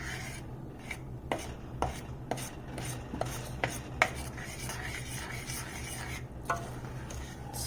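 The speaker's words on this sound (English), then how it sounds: "Just going to keep stirring." A no-bake granola bar mixture is stirred in a pot over medium heat, producing a quiet rhythmic series of scraping, rasping strokes repeated roughly every half second, close up, with no talk.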